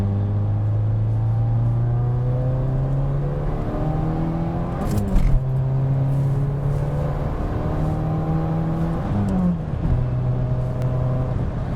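A Subaru Legacy GT engine pulls through the gears while driving, rising in pitch with each acceleration, dropping briefly at two shifts, then climbing again; steady and close inside the car, with no talk.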